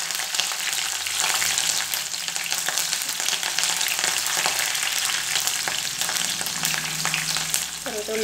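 Green chillies and curry leaves fry in hot oil in a pan, giving a steady, loud, close sizzle that runs throughout with occasional stirring scrapes.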